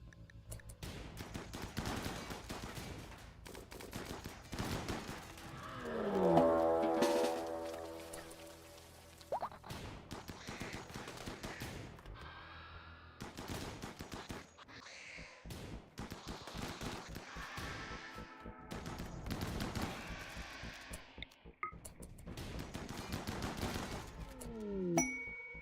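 Colonists firing guns in the video game RimWorld, heard as faint, rapid bursts of small pops and crackles in clustered volleys, with a brief ringing ding partway through.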